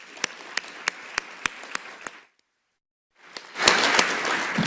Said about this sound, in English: Let's give everybody a round of applause for being here today